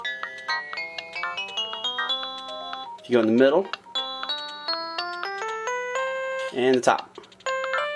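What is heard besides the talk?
Nintendo DSi photo channel piano notes from tapping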